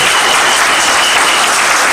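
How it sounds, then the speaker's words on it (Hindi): Loud, continuous applause fills a hall as a seminar audience claps for recognised achievers, the clapping steady and close. "उनके लिए जोरदार ताली होनी चाहिए, जोरदार ताली सभी के लिए।"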